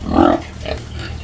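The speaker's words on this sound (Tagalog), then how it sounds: "gustong gusto ng ating mga alagang baboy" Pet pigs grunt and squeal close by, one loud squeal followed by softer grunts and snuffling as they are fed, with a muddy farm setting and low background noise.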